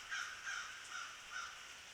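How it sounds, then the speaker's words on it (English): Crows caw from somewhere outside on a rainy day, four or so harsh calls spaced in a loose rhythm over a steady hiss of rain, fairly distant and moderately loud. "The crows want to tell you goodbye."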